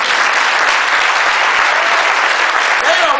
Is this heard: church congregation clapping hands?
yes